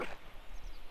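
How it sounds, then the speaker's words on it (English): A Mabari hound, a war dog in the video game Dragon Age Origins, gives one short bark at the very start, followed by near silence with a faint low rumble. "Oh boy, we get our own Mabari Hound."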